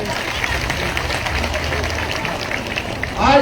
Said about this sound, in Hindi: एक बार प्रदेश अध्यक्ष के लिए भी जोरदार ताली बजाकर स्वागत करें।